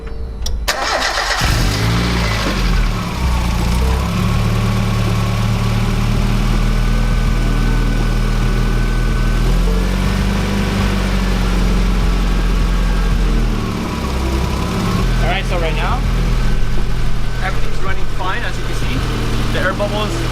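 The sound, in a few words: Mazda Miata car engine idling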